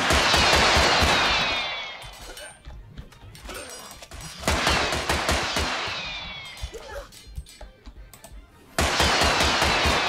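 Rapid automatic gunfire in the game Totally Accurate Battle Simulator, dense close bursts that fade out, return with scattered clattering shots, then break out loudly again at the end.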